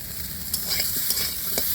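Potatoes and soybeans sizzle loudly in a wok over a village cooking fire, a dense continuous fry with a few brief scraping stirs, close and with no talking.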